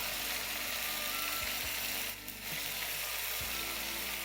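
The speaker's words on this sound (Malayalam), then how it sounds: "ആ ചൂടെണ്ണയിലോട്ട് തന്നെ നമുക്ക് കോഴിയിട്ട് പൊരിക്കാം" Chicken pieces, marinated for chicken chops, frying in hot oil give a steady, close sizzle throughout, with a few soft clinks of stirring or utensils and a brief dip in the crackle midway.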